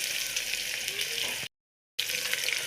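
Chopped onions frying in a pan for pulao and meat, a steady close sizzle that cuts out briefly before resuming, no one talking.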